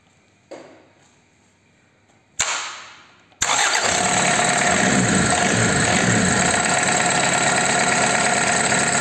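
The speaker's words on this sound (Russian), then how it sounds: "Произведем запуск двигателя. Кубота." A Kubota V1505 diesel engine cranks after a couple of short bursts, catches with a loud rattle and then settles into a steady, dense, close idle that continues to the end, with no voices.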